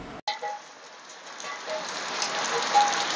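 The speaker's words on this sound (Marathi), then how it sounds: "पाऊस सुरू झालाय" Rain falls steadily on a farm at an agro-tourism spot in Vasai Virar, a soft continuous patter that builds slightly after a brief sharp knock at the start.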